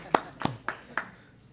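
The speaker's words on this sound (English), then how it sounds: "Is that another round of applause?" At a council study session a few people clap in a sparse, hesitant round: four or five distinct hand claps spaced unevenly across a second and a half, fairly quiet, with faint room tone between them.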